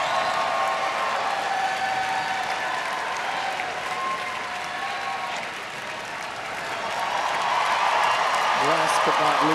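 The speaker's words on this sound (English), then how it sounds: "The crowd is just cheering it on." Applause and cheering from an evening crowd at a dog show's terrier group judging, steady broad clapping throughout that dips slightly mid-way and swells louder near the end, with faint voices mixed in.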